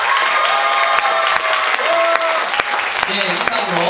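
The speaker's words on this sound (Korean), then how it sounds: "다시 한번 고생한 극단 반창고 학생들에게 큰 박수 부탁드립니다" Audience applause with some cheering fills a school hall after a middle school musical on preventing school violence, performed by a student troupe; loud, steady clapping throughout, with voices and whistles mixed in.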